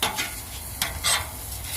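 Oiled vegetables sizzling on a Blackstone hibachi griddle, a close, steady hiss broken by a few brief scraping flare-ups as the food is stirred.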